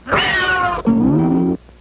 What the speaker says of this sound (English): Maybe if I stepped on your cat's tail.